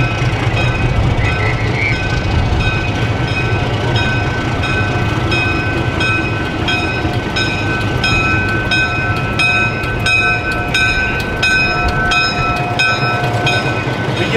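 A PeruRail train on the Machu Picchu line rumbles steadily past up close at a station, with a continuous heavy roar, metallic ringing tones and rhythmic clicking of wheels over the rails.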